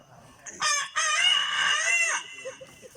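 A voice imitates a small rooster crowing in a stage mimicry act: one long, bright, wavering cock-a-doodle-doo, close and loud, with a short break near its start, then faint noise.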